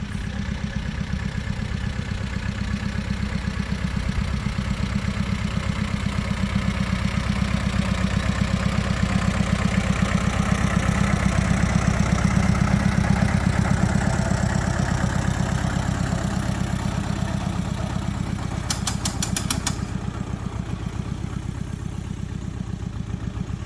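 An old Massey tractor engine runs steadily in a tilled garden field, a low, even throb that holds at moderate distance without pause, with a brief higher rattle near the end.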